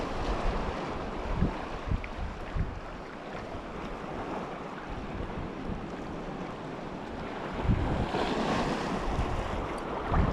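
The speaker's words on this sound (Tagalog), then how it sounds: "Kalapiyan pa rin yung mga alon." Choppy sea waves slosh and break continuously while fishing, with gusty wind buffeting the microphone and a stronger surge of water near the end.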